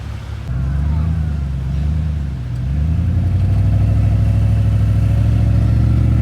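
A 2500 pickup truck's engine drones low and steady, rising into a stronger, louder rev as it works to pull a stuck Toyota Tacoma free off-road, close by and without talk.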